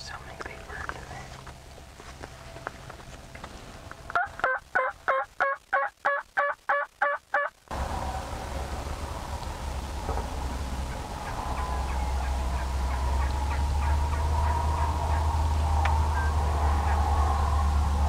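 Wild turkeys gobble in a rapid series of loud bursts during a spring bowhunt in Kansas, with several birds close by, then give way to steady low outdoor rumble and faint distant calls, with hushed whispering underneath.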